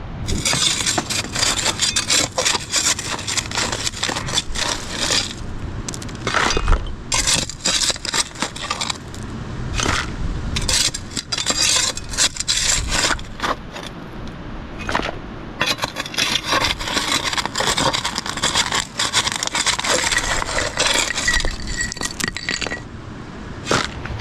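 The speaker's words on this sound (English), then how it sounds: "I need to get a shovel to pry that out." A shovel pries and scrapes a rock out of cracked bedrock at a gold-prospecting dig, with a steady run of gritty scraping, grinding and clanking that goes on close up and loud.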